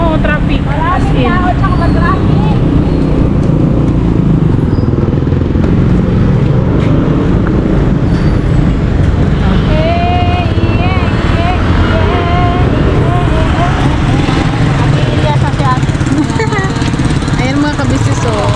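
Heavy road traffic during Holy Week, a dense continuous wash of engines and road rumble close by, with people talking loudly over it throughout.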